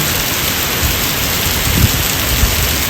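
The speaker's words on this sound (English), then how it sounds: "Just look at the amount of rain pouring off the barn." Heavy rain pours off a barn roof in a storm, a loud steady wash of water and spatter with a low rumble, with no voices.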